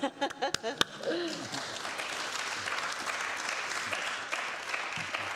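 Applause fills a city council chamber after a councillor's first speech, a steady spread of many hands clapping that follows a brief moment of voices.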